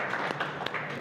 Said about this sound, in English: Great big round of applause for Juan Garcia.